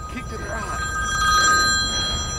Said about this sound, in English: Phone rang again.